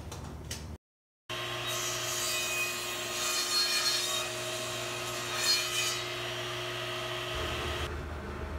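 Table saw ripping wooden boards down to rough size for workbench legs, a loud steady whining cut running almost continuously, broken by one short silent gap near the start.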